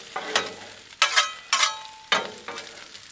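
Bacon cooking on a Blackstone griddle, a steady bed of sizzle broken by five or six sharp crackling bursts and spits spaced irregularly across the clip, close and fairly loud with no talking.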